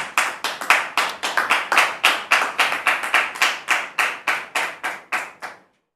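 Rhythmic clapping of about twenty sharp, evenly spaced claps welcomes a guest onto a French talk-show stage, loud and close, and then stops abruptly.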